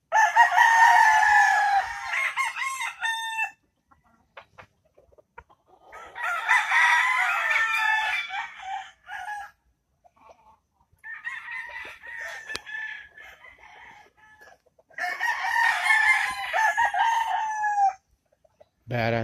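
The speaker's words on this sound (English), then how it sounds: "Badass looking chicken." Roosters at a breeding compound crow repeatedly, four loud, close cock-a-doodle-doo calls spaced several seconds apart with quiet between them.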